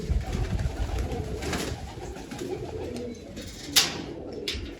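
Pigeons coo softly against a steady outdoor background, with low murmuring calls repeating throughout and a brief sharper noise near the end.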